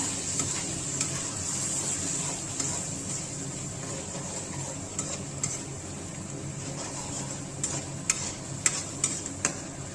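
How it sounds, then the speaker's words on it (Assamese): Ingredients for Assamese rohu fish kalia fry in a pan with mustard seeds, giving a steady soft sizzle with occasional sharp ticks and stirring clicks. No one speaks. "আৰু তাক অলপ সময় ভাজিম"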